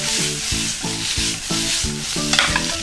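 Spinach stir-frying in a pan with oil, giving a steady close sizzle and scraping stir sounds in a repeating rhythm, with no talking.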